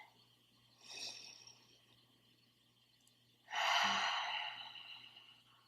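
Two deep, airy breaths from someone seated in cobbler's pose during a yoga session: a softer inhale, then after a pause a long, loud exhale that slowly fades, close and without talking.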